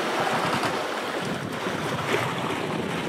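Small boat running up onto a beach, with steady broadband wash of waves and surf on the shore under gusty wind rumble on the microphone, continuous and fairly loud throughout with no talk.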